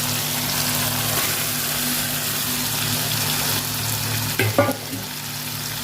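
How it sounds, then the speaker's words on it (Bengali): Lote fish cooks down with spice masala in oil, giving a loud, dense, continuous sizzle close up, with a brief clatter of stirring near the end; no voices. "এবার মাছগুলোর সাথে মশলাটা ভালো করে কষে নেবো।"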